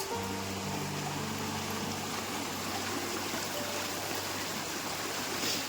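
Rainwater rushes and gurgles steadily and close by through a channel near a forest temple, a continuous flowing hiss with no voices.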